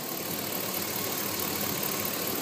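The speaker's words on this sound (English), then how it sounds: "I wanted you to hear the engine for yourself." A 2004 GMC Yukon SLE 1500 4WD sport utility with its Vortec engine running, a steady close idling hum with an even, slightly rough texture and no voices.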